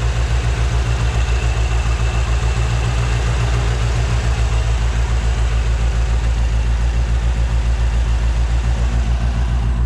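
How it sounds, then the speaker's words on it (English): A restored 1957 Chevrolet 210 two-door sedan with a 283 V8 and Rochester carburetor idles steadily up close, a smooth, even low rumble with a regular pulsing beat and no knocking or ticking, no voices. "If you listen to the engine, again, no knocking, no ticking, just hums as it should."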